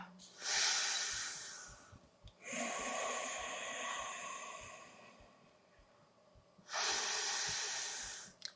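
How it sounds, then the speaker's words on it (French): Slow, deep breathing during a Pilates ankle-strengthening exercise, three long airy inhale-exhale breaths separated by pauses, close and clear with a soft rhythmic tapping underneath. "On respire."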